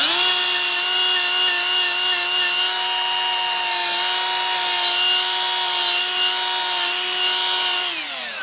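Grinder fitted with a small polishing disc deburring steel trailer chain, a loud steady high whine with a humming tone that holds for about eight seconds and winds down at the end.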